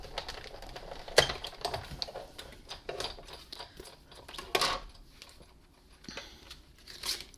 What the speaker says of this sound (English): Then I'm going to run this through my big shot.